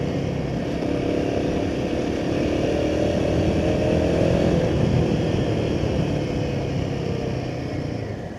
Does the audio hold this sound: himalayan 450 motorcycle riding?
yes